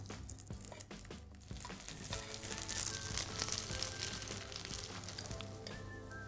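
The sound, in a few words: polenta slices browning in a pan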